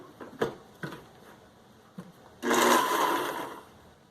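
Blender churning a thick avocado smoothie, a loud straining whir starting after a few soft knocks and clicks and running for about a second before dropping away.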